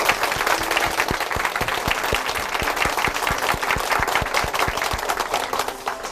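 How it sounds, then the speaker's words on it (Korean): A church congregation at Chuncheon Hanmaum Church gives warm applause to a brother after his testimony, a continuous loud wash of many hands clapping, evenly sustained throughout with no voices on top. "다시 한번 우리 형제님께 뜨거운 박수 부탁드립니다"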